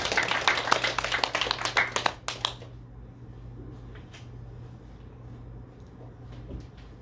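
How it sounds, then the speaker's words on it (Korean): A church congregation at a Sunday service claps to welcome a speaker, a dense burst of applause that fades out after about two seconds, followed by a quiet room with low hum and a few faint knocks. "우리 박수로 환영하시겠습니다"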